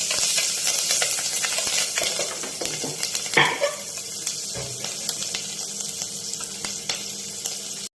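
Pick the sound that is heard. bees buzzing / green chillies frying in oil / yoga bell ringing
green chillies frying in oil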